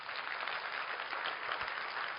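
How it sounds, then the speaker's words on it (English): An audience applauds the VP of Business Development at a corporate event: a steady, dense wash of clapping that stays fairly constant throughout, with no talk over it. "Give him a big round of applause."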